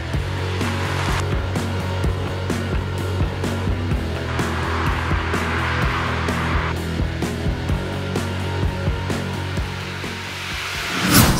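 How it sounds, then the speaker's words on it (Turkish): Tire and road noise rolls through the cabin of a moving Toyota C-HR hybrid, a steady broadband roar with faint engine hum and occasional bumps, persisting throughout. "lastik seslerini şu anda muhtemelen siz de ciddi şekilde duyuyorsunuz"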